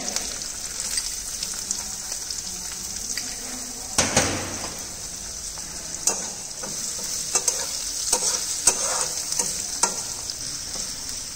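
Chopped onion sautéing in oil with cumin seeds, chopped chilies and curry leaves: a steady close sizzle broken by repeated scraping stirs of a spoon against the pan, with a sharper knock around the middle.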